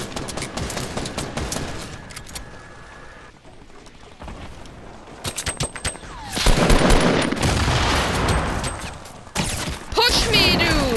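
Rapid bursts of gunfire in the battle royale game Fortnite, from several shooters at once, loud and dense in the second half, with a player talking over it throughout.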